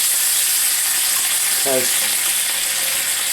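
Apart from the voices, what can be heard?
streak o' lean pork frying in cast iron pan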